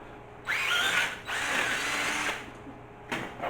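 A power drill with a 5mm bit whirs in two bursts, starting and stopping, then a brief third spin at the end, close by.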